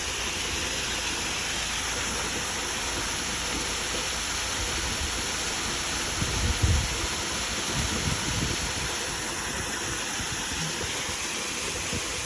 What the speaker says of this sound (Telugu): మొత్తం ఫారెస్ట్, ఇంకా వాటర్ ఫాల్ అయితే పోతా ఉంది కిందకి